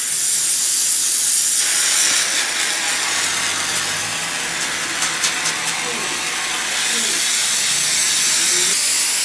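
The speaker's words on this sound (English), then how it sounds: "When you spray this adhesive, it's important that you do a nice even web kind of pattern." A steady, loud hiss of spray adhesive being sprayed onto foam during bus work comes in long bursts that pause briefly between passes, with faint clicks and shuffling in the background.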